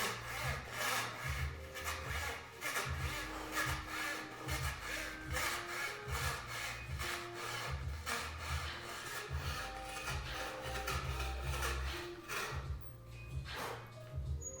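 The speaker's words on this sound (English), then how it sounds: "So you notice I needed to stop sawing right there, reposition my hand, and then start again." A hand saw rasps through thin wood veneer for marquetry in quick, rhythmic back-and-forth strokes, close and steady, pausing briefly near the end.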